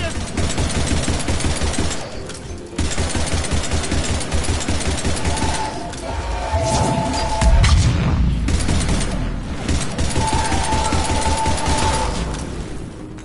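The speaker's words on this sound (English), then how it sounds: "Harvester firing on the Turians!" Harvester firing on Turian troops in the Mass Effect 3 video game: dense, continuous bursts of heavy weapon fire and booming blasts over a rumbling engine-like drone, loud throughout with a few brief lulls and possible faint voices.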